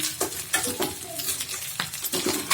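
Spices and ginger paste fry in a pan for a jackfruit-seed and dried fish curry, a steady sizzle broken by several sharp stirring scrapes at an irregular rhythm, close and fairly loud with no talk.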